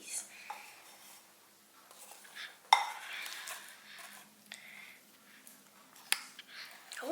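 Cream cheese and icing sugar being mixed in a bowl, with soft scraping and a few sharp clinks of a utensil against the bowl, faint and irregular in a quiet kitchen.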